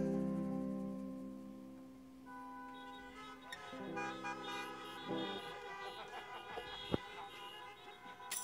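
Car horns honk at a drive-in concert, several sustained toots overlapping and layering at moderate distance, with a sharp click near the end.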